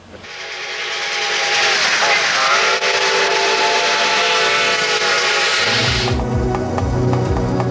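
A Canadian Pacific steam locomotive on the Montreal route sounds a loud, sustained chorded steam whistle that swells in and holds for several seconds, then gives way to hissing steam and low rumbling chuffs.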